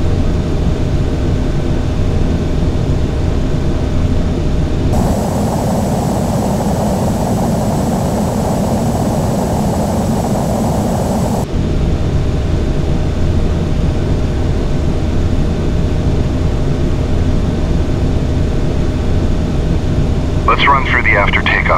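Steady engine roar of an airliner climbing after takeoff in Microsoft Flight Simulator X, a continuous loud drone that thickens midway, with a short tonal blip near the end.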